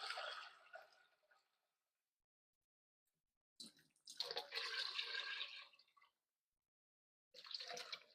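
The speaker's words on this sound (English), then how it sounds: "And then we will add some water." Water pours into a cooking pot in a home kitchen in two bursts of splashing, gurgling flow, separated by quiet and followed by a brief third pour.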